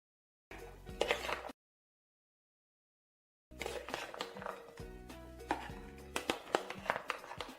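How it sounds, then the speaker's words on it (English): Vegetables are finely chopped on a board with a knife for corn fritters: a short burst of quick chops, a silent gap, then a longer run of crisp, uneven strikes, close and clear with no talk. "Start by peeling and finely chopping them to release their flavors."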